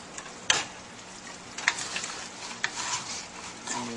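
Crab stewing in its own juices with coconut milk and curry powder, a steady bubbling sizzle in the pot, broken by a few light knocks and clinks of a utensil against the pan.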